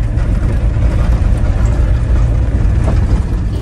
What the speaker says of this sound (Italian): È il suono di un camper del 98 che sta cadendo a pezzi.